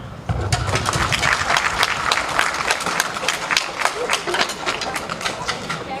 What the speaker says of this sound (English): Everyone on stage, let's give applause to them